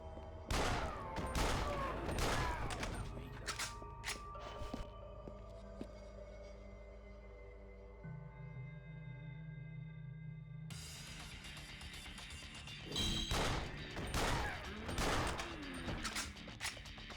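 Gunfire cracks in Yakuza Dead Souls as zombies are shot, rapid volleys of pistol shots in bursts at the start and again near the end, with a quieter stretch of game music and tones between.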